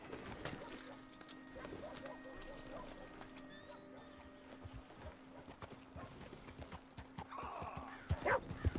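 Horses trotting in Red Dead Redemption 2, hooves clip-clopping steadily with an occasional whinny, growing louder toward the end over a low ambient hum and game background.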